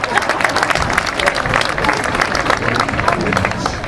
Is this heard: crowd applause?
yes